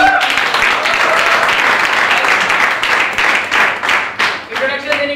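Audience applause at a business meeting, a dense burst of many hands clapping that thins out toward the end, with talking over it.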